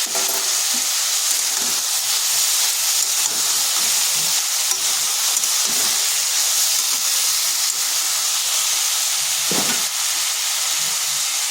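Ridge gourd sizzles steadily in a pan with Kashmiri chilli powder and turmeric, close and loud, a continuous fry hiss with faint stirring scrapes and no talk.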